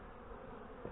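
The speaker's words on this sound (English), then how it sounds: "There's actually a lot of bees out here right now." Honey bees flying around beehives in a Hive 4 inspection, a faint, steady buzzing drone that fills the whole moment without pause.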